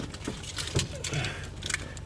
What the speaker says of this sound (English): We'll just grab the keys here